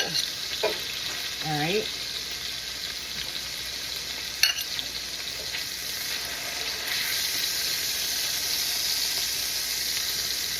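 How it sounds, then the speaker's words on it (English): Pork chops for an orange pork chop recipe sizzle steadily in a hot frying pan, a close, constant crackling hiss with a brief spoken remark and a light clink of utensils. "Nice sizzle."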